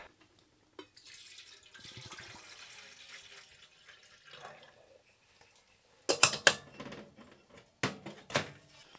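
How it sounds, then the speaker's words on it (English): Water running into a pot from a tap for making coffee in a tent with a wood stove during bitter cold, a thin steady stream that stops, followed by a few sharp metallic knocks and clatters. "I wanna get a pot of water on so I can have some coffee."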